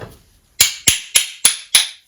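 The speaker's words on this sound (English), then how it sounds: "So this just punches through, makes a hole, and then our other pieces dimple it in." A punch tool pierces sheet metal on a Scion xB pickup build in five sharp, evenly spaced metallic clicks, each close and crisp with a quick ringing decay.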